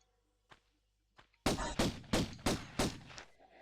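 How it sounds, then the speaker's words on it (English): Pistol shots aimed at a rat in the 1996 Tomb Raider video game: two faint clicks, then five loud, evenly spaced gunshots in quick succession. "And then we're going to shoot the rat."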